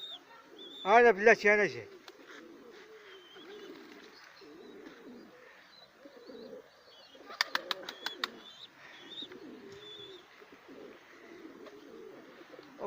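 Pigeons released outdoors coo in soft, repeated low bursts throughout, with a few short sharp chirps and a brief wing flutter, while someone talks over them.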